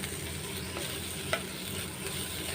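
Dried fish (karuvadu) fries in a pan for a spicy fish curry, giving a continuous close sizzle with light stirring scrapes and one brief clink, and no talking.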